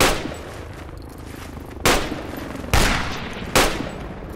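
Gunfire in the military shooter game Project Reality: three loud, sharp shots spaced about a second apart, each with a booming decay, after a fading earlier report.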